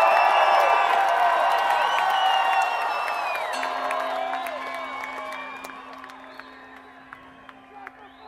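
Concert crowd at a show at Sacramento Valley Amphitheater in Marysville, California, cheering, whooping and clapping in a loud, dense roar that gradually thins and fades, leaving scattered claps and a faint steady tone.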